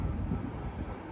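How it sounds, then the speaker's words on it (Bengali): A train rumbles low and steady for a brief moment, a dull continuous roar with some wind-like noise and no clear detail. "এটা ট্রেনের আওয়াজ মা"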